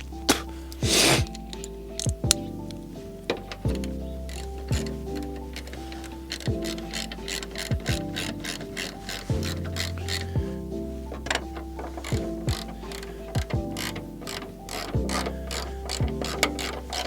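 A ratchet socket wrench with an extension tightens bolts on the front end of a 1986 Mazda RX-7 FC: rapid, continuous metallic clicking in close bursts, with occasional clunks and pauses between strokes.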